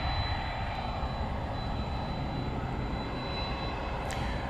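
A jet airliner, a UPS freighter departing a DFW runway at night, gives a steady broad engine roar that holds loud and constant throughout, with no voices.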